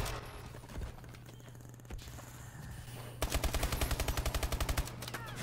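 A shotgun in the video game Call of Duty: Advanced Warfare fires amid steady game noise, followed by a fast, loud rattling burst of repeated shots near the end.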